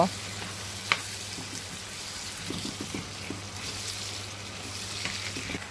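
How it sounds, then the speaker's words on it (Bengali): Sausage and onion sizzle steadily in a pan on a rainy day, a soft, even frying hiss with faint scraping stirs and small clicks of the utensil, fairly quiet and without talk. "এখন আমি সসেজটাকে নেড়ে চেড়ে কিছুক্ষণ কুক করব"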